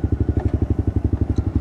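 An old Honda Dio scooter idles close by, its small engine putting out a steady, rapid, even putter with no talk over it.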